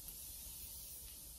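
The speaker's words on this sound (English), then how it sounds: "First, I like to prime my face with this Morphe spray." Morphe setting spray misted onto a face as a steady, close hiss that carries evenly throughout.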